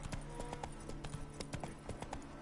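Hooves of the horse Roach clip-clopping at a steady running pace in The Witcher 3 video game, a dense continuous rhythm of close hoofbeats.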